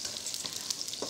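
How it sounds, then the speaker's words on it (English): Sambal sizzling and frying in a hot wok or pan, a steady bright crackle with small pops that stays close and fairly loud throughout, with no voices over it. "Now the sizzle, you can hear the sound, is a bit too loud."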